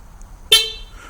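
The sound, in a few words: Honda HR-V horn honk confirming remote door lock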